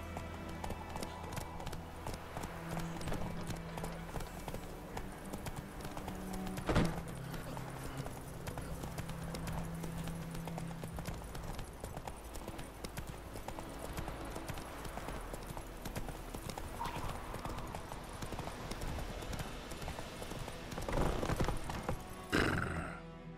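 Roach, Geralt's horse in The Witcher 3, clip-clops along in a steady hoof rhythm with a whinny partway through, set against game music and ambient sound.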